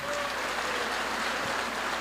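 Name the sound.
congregation applauding in church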